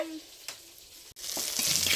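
Eggplant slices sizzle and crackle in hot oil in a wok. The frying starts softly, breaks off for a moment, then swells into a loud, dense hiss, close by with no talk.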